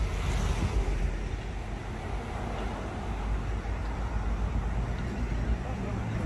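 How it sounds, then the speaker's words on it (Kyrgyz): Strong evening wind off the ocean in Miami, Florida, bending palm trees, makes a dense, continuous roar that buffets the microphone without letting up for the whole stretch. "Шамал болот атат мыяста."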